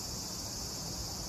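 A cicada buzzes in a steady, high, unbroken drone, fairly loud and alone without any voices over it.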